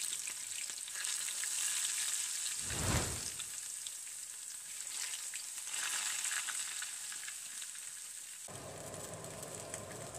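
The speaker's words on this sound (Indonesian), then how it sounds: "Panaskan minyak, lalu goreng tempe." Soybean tempeh crackles and sizzles in hot oil, a steady close frying hiss with a brief louder burst partway through.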